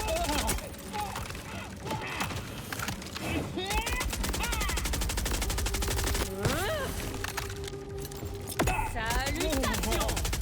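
Gunfire in Borderlands 4 rattles in repeated bursts under a busy mix of game effects and chiming tones, while someone talks over much of it.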